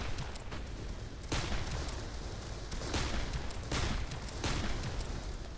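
Covering gunfire in the video game Darkest of Days: sharp shots crack out loud and close in an irregular rhythm, several heavy blasts among lighter pops, over a steady rumble of battle.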